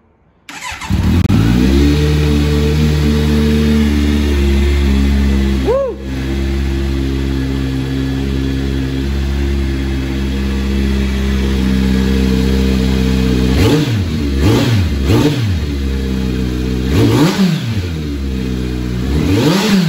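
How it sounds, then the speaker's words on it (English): A Kawasaki Z900 motorcycle fitted with a LeoVince slip-on exhaust starts and settles into a loud, steady idle, then gives several sharp throttle blips toward the end, close and alone. "Let's start this baby up and see how she sounds."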